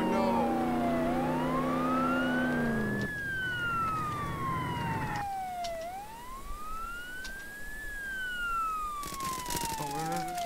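Police car siren wailing during a chase in Roblox Jailbreak, loud and close, its pitch rising and falling in slow sweeps with a brief jump partway through and a burst of noise near the end.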